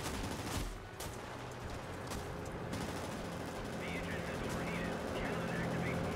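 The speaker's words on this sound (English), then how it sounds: "the tail gun is at work." An aircraft tail gun fires in the video game World of Warplanes, short rattling bursts standing out from a constant engine drone, fairly quiet overall with faint voice-like sounds in the background.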